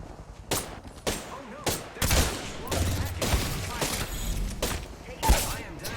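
Apex Legends combat brings repeated sharp gunshots, including an Eva 8 shotgun, as loud separate blasts fired every half second or so, then denser overlapping fire with thumps in the middle of the stretch.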